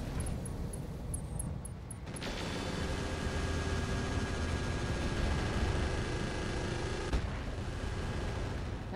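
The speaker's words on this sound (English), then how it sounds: "That's a lot of missiles." Missiles launching in a video game: a sustained roaring, hissing rush that starts abruptly, holds steady for about five seconds and then drops off, following a few faint high beeps.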